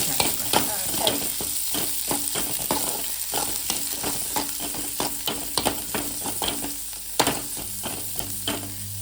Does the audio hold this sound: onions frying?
yes